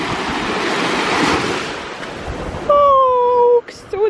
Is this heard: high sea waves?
yes